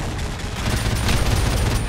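Machine gun fire in Call of Duty Modern Warfare Remastered: a sustained, rapid stream of heavy, close shots rattling without pause for nearly two seconds, loud and dense.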